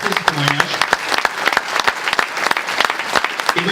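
Audience applause at a food and farming conference in Magnac-Laval, steady crowd clapping throughout, dense and close, with a few voices briefly heard over it.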